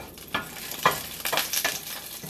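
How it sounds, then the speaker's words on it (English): Food sizzles and crackles in hot vegetable oil, with a few sharper pops and stirring scrapes over a steady frying hiss, close up. "you're going to fry these in with your vegetable oil"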